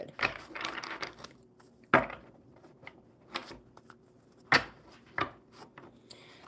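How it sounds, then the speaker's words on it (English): Tarot cards being shuffled by hand during a casual live card reading, giving soft papery riffles and sharp snapping bursts at irregular intervals, close and fairly quiet with no talking. "I'll get these shuffled up good."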